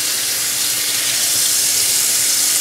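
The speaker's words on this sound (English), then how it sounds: "I'm gonna rinse out my nut milk bag" Tap water runs steadily into a kitchen sink while a nut milk bag is rinsed under it, producing a continuous, close, even rushing hiss with no talking.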